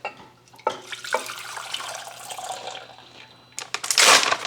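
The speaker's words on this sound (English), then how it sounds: "Carefully try and pour the sauce into this pot." Sauce poured from a crock pot into another pot gives a wet, splashing liquid flow with a gurgling rush near the end, close and fairly loud, with no talking.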